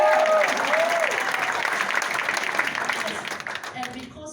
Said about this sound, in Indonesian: Tepuk tangan, boy.